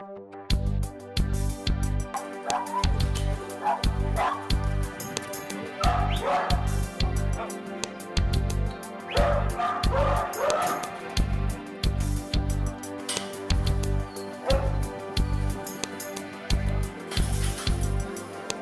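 English setters bark repeatedly in quick bursts, some yipping and whining mixed in, moderately close and fairly loud over a steady background.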